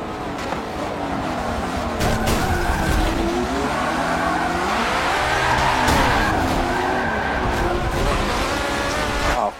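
Race cars in a racing video game skid and squeal their tires over a constant engine roar, the screeching rising and falling in long sweeps with no talk.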